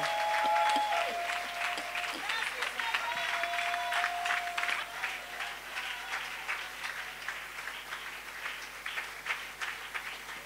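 A church congregation applauds to acclaim the Lord, with steady dense clapping throughout and a few raised voices and whistles mixed in.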